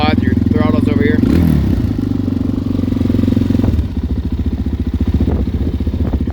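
Suzuki Eiger 400 ATV quad engine idling fast and steady close by with a low throbbing exhaust, blipped once midway; a voice talks briefly over it at the start.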